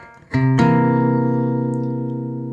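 A single dominant seventh chord strummed once on guitar, ringing out clearly and slowly decaying over a couple of seconds, with no voices.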